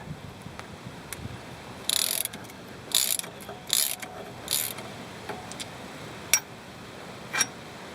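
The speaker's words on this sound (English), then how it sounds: "you're going to need an open-ended wrench, and you're going to need a socket, and they're both 15mm" A ratchet and socket turn a ball joint pinch bolt, giving bursts of quick metallic clicking in short spaced runs with a few single ticks, close and fairly quiet, with no talking.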